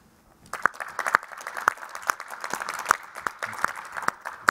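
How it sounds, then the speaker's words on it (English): Audience at a technology conference session applauds a panel, starting after a brief quiet moment, then sparse, distinct claps from a smallish room that stay moderately loud and fairly near. "just have a round of applause for our great panel"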